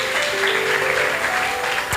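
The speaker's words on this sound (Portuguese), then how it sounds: "Uma salva de palmas bem forte para Jesus." A church congregation applauds during a worship service, a dense, steady burst of clapping that fills the whole moment, loud and close, with no clear speech over it.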